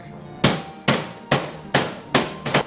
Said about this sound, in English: let's pound the pork.